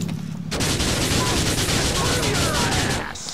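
Dense, continuous gunfire from a multiplayer GTA IV online match rattles loudly for nearly three seconds, rapid overlapping shots forming a sustained burst that begins suddenly and tapers off.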